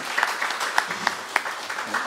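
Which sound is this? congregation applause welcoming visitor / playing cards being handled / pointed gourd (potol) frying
congregation applause welcoming visitor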